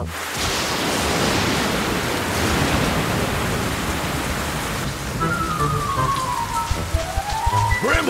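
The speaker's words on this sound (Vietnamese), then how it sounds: "trời mưa to quá" Heavy cartoon rain pours down in a thick, steady hiss that fills the scene, with a few faint tonal sounds rising late on and no talking.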